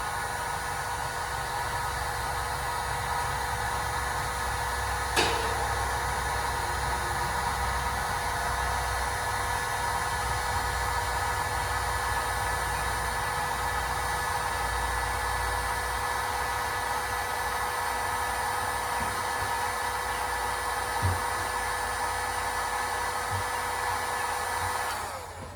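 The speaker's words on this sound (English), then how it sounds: "I'm just going to take my heat gun here and just going to heat it here for 30 seconds or so." A handheld heat gun blows steadily for about 25 seconds, warming a part on a DIY UTV boom sprayer; its even, loud whooshing hiss with a constant motor whine runs alone, with a faint click near the start.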